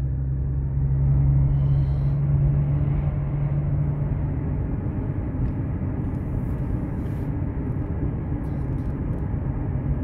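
Steady low engine rumble and road drone from a Dodge Challenger driving along, continuous and fairly loud from inside the car, with no talk.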